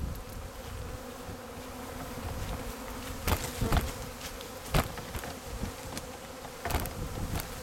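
Bees buzzing at a beehive entrance, a steady hum of many insects with brief louder passes as individual bees fly close by.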